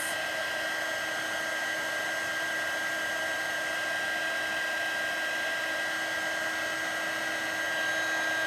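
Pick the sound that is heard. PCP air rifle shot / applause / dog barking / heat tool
heat tool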